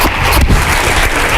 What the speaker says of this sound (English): Big round of applause for Leslie.